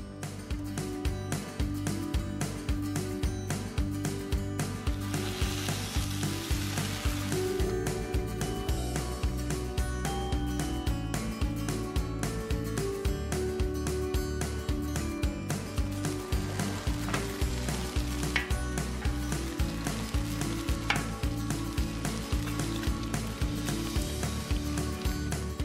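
Chicken pieces being flipped in a pan for an aloha chicken sandwich, a steady close crackling sizzle with scattered pops and light utensil scrapes, no talking.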